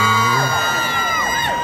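A concert crowd at a Central Nakhon Pathom shopping-mall event screams and cheers loudly, with high-pitched whoops and shrieks rising over a sustained roar of voices.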